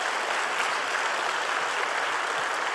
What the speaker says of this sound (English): That's good to applaud.